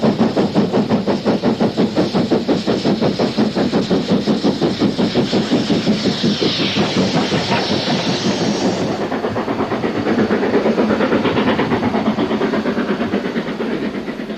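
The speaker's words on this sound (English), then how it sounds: "moving a heavy train of 9 fully laden coaches" A steam locomotive with three pairs of six-foot two-inch driving wheels hauls nine fully laden coaches up a grade, its exhaust beats pounding in a fast, steady rhythm, loud and close, with no voices.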